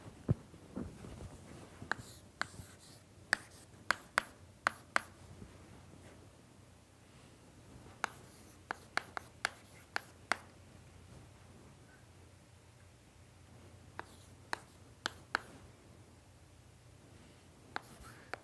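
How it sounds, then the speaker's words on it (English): Chalk or marker writes on a lecture-hall board for a PDE numerical methods class, sharp taps and strokes coming in irregular bursts over a quiet room hum. "So maybe let me write it here for you."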